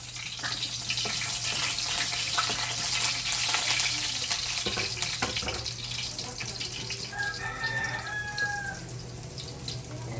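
Garlic sizzling in hot cooking oil, a steady loud crackle and hiss of frying with brief tonal bits near the end; no talking.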